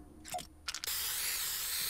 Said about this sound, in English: So I'm gonna put down my spray here.